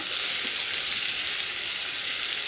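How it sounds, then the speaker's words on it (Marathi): Onion fries in a pan over a medium gas flame, a dense, steady sizzle close by that holds evenly for the whole short stretch, with no voices. "सर्वात पहिले आपण कांदा परतून घेऊया"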